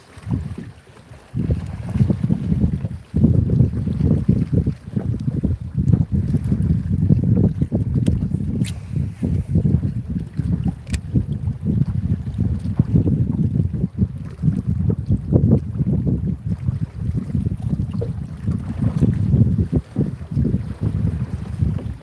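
Wind blowing on a fishing boat drifting parallel to a shoreline: a steady, loud rumbling buffet that fills the whole stretch after a brief quieter start, with no voices.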